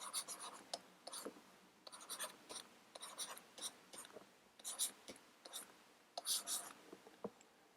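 Equations being written out by hand: soft, close scratchy strokes of pen on paper in an irregular run of short marks and pauses, quiet throughout with no talking.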